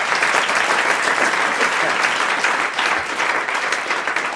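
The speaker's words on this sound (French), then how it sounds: "Vous l'applaudissez." Steady, loud applause from a large studio audience at a 1993 French TV game show, continuous clapping filling the whole stretch without a break.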